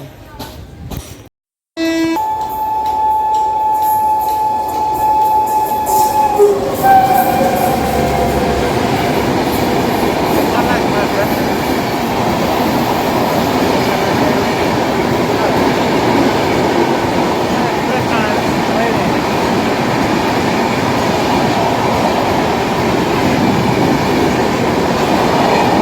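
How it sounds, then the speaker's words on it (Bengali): A train stands at close range in Jhargram. A short tonal whine and a brief pause give way to a loud, steady rail rumble that carries on, heavy and near. "তোমরা দেখতে পাচ্ছ সামনে একটা ট্রেন দাঁড়িয়ে আছে"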